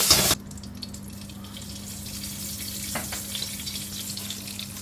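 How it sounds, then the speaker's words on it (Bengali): Flat beans (shim) fry in hot oil with a steady, close sizzle, after a brief burst of louder hiss at the start and a couple of light clinks. "এবার শিমগুলো একটু ভেজে নেব।"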